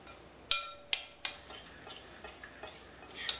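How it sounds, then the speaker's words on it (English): A spoon stirs a fresh tomato mixture with raw salt in a bowl, giving several sharp clinks against the dish followed by softer scraping taps, close and fairly quiet. "Give it a stir."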